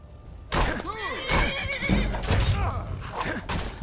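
A horse in the video game Skyrim whinnies loudly several times in quick succession, close by, with hoof clops mixed between the calls.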